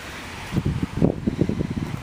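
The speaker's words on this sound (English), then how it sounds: "It's kind of windy today." Steady wind noise buffets the microphone in a garden, with gusty low rumbles coming and going in quick bursts throughout.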